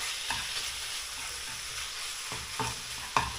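Cubed chicken frying in oil, a soft steady sizzle with occasional scrapes and taps of a spatula against the pan, quiet and close, no voices.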